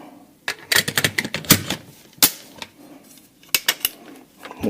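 Sharp mechanical clicks and snaps from an AR-15 rifle chambered in 7.62x39 as its magazine release and bolt release are worked, a quick burst of close, loud clacks with a few later isolated clicks, no talking.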